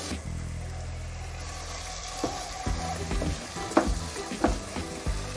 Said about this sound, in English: Keep stirring it so that the masala won't get burnt.